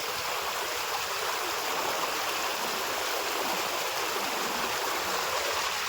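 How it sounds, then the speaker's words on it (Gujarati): A continuous, even rush of water flowing in a stream, close and fairly loud, with no voices or other sounds. "ઝરણું મસ્ત હાલ્યું જાય છે"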